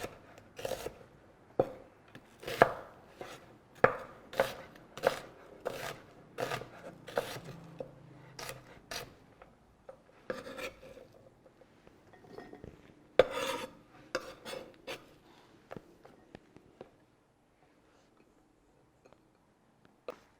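A knife coarsely chops purple onions on a board in a home kitchen in Athens: a run of crisp, close thuds at an uneven quick rhythm that thins out and fades to quiet.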